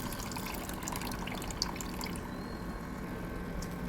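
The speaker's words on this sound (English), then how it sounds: "So for this I'm adding in the choli water, which was boiled in the pressure cooker." Boiled chole cooking water from a pressure cooker poured into a fried mixture in a pan, a steady close liquid pour with soft sizzling splashes throughout.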